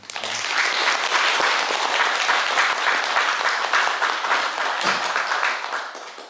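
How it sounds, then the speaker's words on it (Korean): Steady, dense applause from an audience at a Buddhist talk, continuing for about six seconds, fairly loud and even throughout before tapering slightly at the end. "우리 작가님께 다시 한번 박수 한번."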